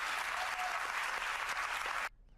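Sustained audience applause from a political talk-show crowd, dense and steady clapping that cuts off abruptly near the end.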